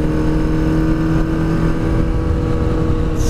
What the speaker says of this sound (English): This motor does not want to go a lot more than 60.